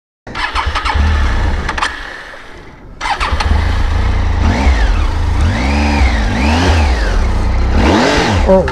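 A Yamaha Tenere 700 adventure motorcycle engine starts, then idles and revs in repeated rising and falling surges, loud and close, after a brief pause.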